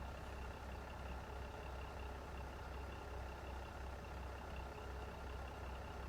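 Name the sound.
train engine idling in video game Train Sim World 2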